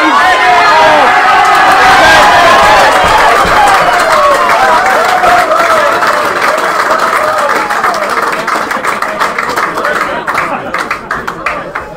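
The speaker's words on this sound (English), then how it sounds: "you cannot yell over this crowd in the grandstand" A loud grandstand crowd at a men's club rugby match roars and applauds in a dense sustained wave that slowly thins into scattered clapping, with a commentator's voice underneath.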